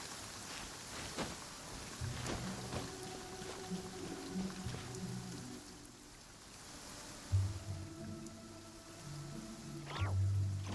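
Steady rain hisses in a Genshin Impact game scene, soft and continuous, under low droning music tones and occasional faint thumps, without speech.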